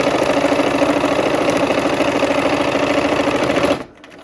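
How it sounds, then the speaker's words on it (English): A sewing machine runs steadily while stitching a row of a patchwork quilt, with a fast, even mechanical whir held close and loud for nearly four seconds before stopping abruptly. "Let's go sew."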